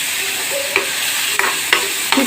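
Minced keema frying in a pan with garlic and ginger, giving a steady close sizzle broken by a few scraping stirs of a spoon, with no talking.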